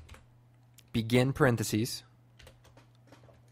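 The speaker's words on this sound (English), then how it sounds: "So what I'm going to type is wiggle" Light clicking keystrokes on a computer keyboard, soft and scattered before and after a short spoken phrase.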